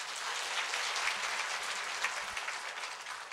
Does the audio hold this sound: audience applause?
yes